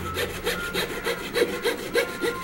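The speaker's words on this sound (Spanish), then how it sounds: "Vamos haciéndolo despacio, se hace como si estuviera cortando con una segueta" Hand coping saw cutting figures from a wooden board, slow steady back-and-forth strokes, about nine rhythmic rasping passes, close and clear with no talking.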